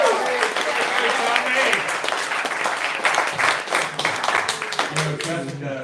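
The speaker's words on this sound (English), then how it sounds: "we should start with a really nice round of applause for the wedding celebrant" Wedding guests give a round of applause for the wedding celebrant at a reception, a loud, dense burst of clapping from many hands that carries on for several seconds, with voices and cheering mixed in.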